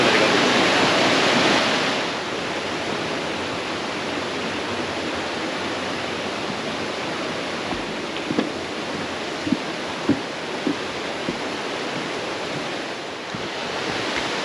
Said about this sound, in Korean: 계곡물이 시원하게 흘러내려가고 있습니다